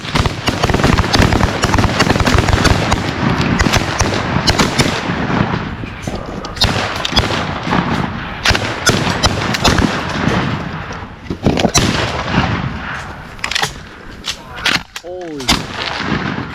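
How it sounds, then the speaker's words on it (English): Shotguns fire rapidly at birds during a hunt, producing a loud barrage of overlapping close blasts, followed by sparser shots and a few shouted voices. "We should probably shoot him in case more are coming."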